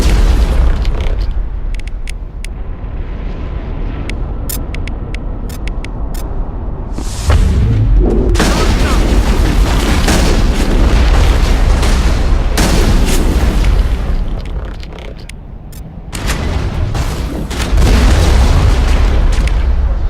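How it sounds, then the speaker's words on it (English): In the Mass Effect video game, the Carnage shotgun ability launches a fiery explosive blast: loud, booming bursts over dense continuous combat noise, with a heavy rumble that swells and dips. "that's the shotgun ability Carnage"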